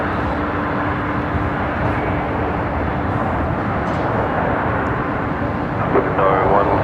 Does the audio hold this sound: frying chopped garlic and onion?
no